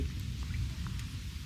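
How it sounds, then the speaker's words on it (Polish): Light rain drizzling outdoors, a steady soft patter with a low rumbling wash underneath, continuous and fairly close, with no voices. "Cały czas tak krapi"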